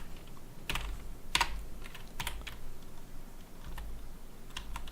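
Rapid keystrokes on a computer keyboard arrive in several short, close bursts with small pauses between them. No voice is heard.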